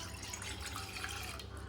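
A glass of water is poured into a cooking pot on a lit stove, making a steady, close splashing pour of water throughout.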